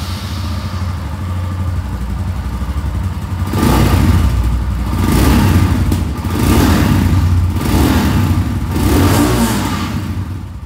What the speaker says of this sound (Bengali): এবার আপনাদেরকে আমি এখানে স্ক্র্যাম 440 যে আওয়াজ সেটাও আমি আপনাদেরকে শুনিয়ে দিই।